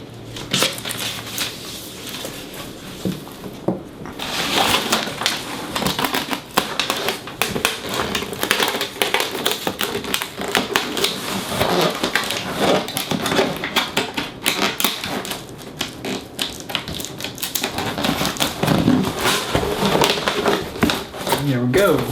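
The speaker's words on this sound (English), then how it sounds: "Or tape the inside of this wall, I should say." Tape being pulled and pressed onto the inside wall of a DIY fermentation chamber for a Catalyst fermenter, giving close, continuous crackling, ripping and rubbing that keeps going for most of the stretch, with talk in places.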